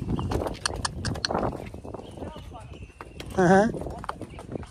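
Cattle and donkeys walk past in Hadzabe country with irregular hoof clops and shuffling steps, close by under people talking. A short, rising animal call cuts in near the end.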